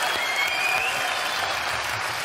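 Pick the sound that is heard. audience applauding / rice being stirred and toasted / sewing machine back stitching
audience applauding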